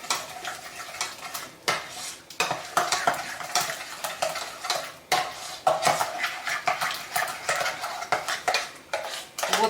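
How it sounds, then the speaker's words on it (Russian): A utensil stirs almond cake batter in a bowl, producing repeated scraping and clinking strokes in uneven bursts, close and clear with no talking. "Все хорошенько перемешиваю"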